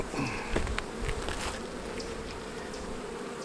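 A close, continuous buzzing of many honeybees at a hive hums steadily, with a few louder passes of individual bees near the start.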